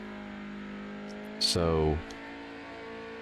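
A TCR race car engine in the iRacing sim revs sharply for about half a second at a standing start, then drops away, loud against a steady background hum with a voice speaking faintly.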